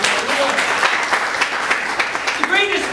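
A church congregation claps in praise to the Lord, a steady patter of many hands lasting a few seconds, with a voice rising briefly over the clapping near the end.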